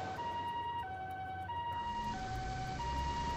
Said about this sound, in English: Ooh, ambulance.